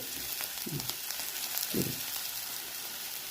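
Onions frying in ghee in a pan, a soft steady sizzle with a couple of brief low stirring bumps, close but quiet.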